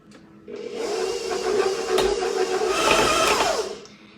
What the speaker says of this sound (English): today we're going to be doing a little mixing, so I apologize for the noise.